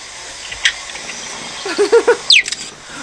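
A cheetah calling with short, high bird-like chirps and squeaks, a few separate bursts spread across a quiet few seconds.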